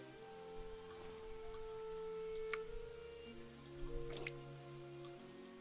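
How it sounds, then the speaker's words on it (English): Soft, steady rain falls over a stable yard in the medieval role-playing roguelite game Pendragon, a faint wash of patter with scattered drips and ticks beneath sustained tonal game music. "The stable yard is drenched in rain."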